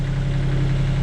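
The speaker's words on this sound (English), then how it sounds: "as you can hear, the engine is on" A sailing yacht's engine idles steadily before leaving the marina, a loud, close, continuous low rumble with no talk over it.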